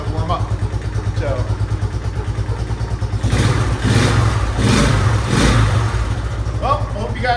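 A 1972 Honda XL 250 motorcycle engine idles and warms up after a carburetor rebuild, with a steady, close, lumpy putter and a few brief throttle swells midway. Someone talks over it.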